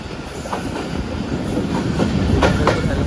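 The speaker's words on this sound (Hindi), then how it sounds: "बिल्कुल हल्की रफ्तार में ट्रेन क्रॉस कर रही है।" A passenger train rolls slowly along the main line near a station platform, its wheels clacking steadily over rail joints with occasional faint squeals, building gradually louder as the cars pass close by.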